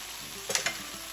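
Chicken and bok choy sauteing in a hot pan for a stir fry, heard as a steady low sizzle with two brief, louder bursts of stirring and frying in the middle of the second. There is no talking.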